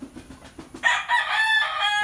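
A rooster on a farm lets out a loud, drawn-out crow after a few soft, rhythmic clucks from nearby chickens.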